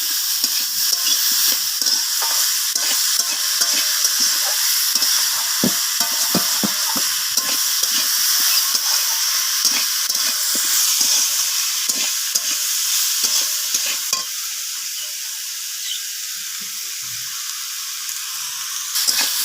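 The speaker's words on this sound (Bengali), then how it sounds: "সবজির সাথে এইভাবে শাকটাকে আমি কষিয়ে নিচ্ছি" Greens and mixed vegetables being stir-fried in a pan, with a steady loud sizzle broken by frequent scraping strokes of a spatula throughout, easing slightly toward the end; no talking.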